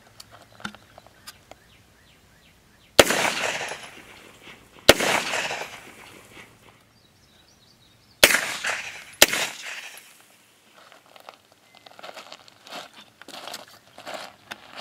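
Four sharp, loud shots from a CMMG Lone Wolf 9mm AR, each followed by a ringing tail and spaced a few seconds apart, some unsuppressed and some suppressed, with faint ambient clicks and birds between them.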